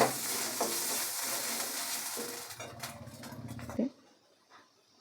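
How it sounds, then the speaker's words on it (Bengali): Spices fried together with a chili powder and salt mixture in a pan, a close sizzle with stirring scrapes for about four seconds, then the sound drops away to near quiet before a final knock. "সব কিছু আবার ভালো করে কষে নেব।"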